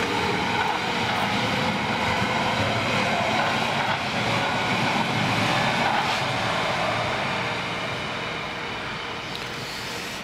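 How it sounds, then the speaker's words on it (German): A Berlin S-Bahn S1 train heading toward Frohnau passes nearby at Bornholmer Straße, a steady loud rumble and rail roar that holds throughout and eases slightly at the end, with no talk. "wenn hier nebenher die S1 Richtung Frohnau fährt"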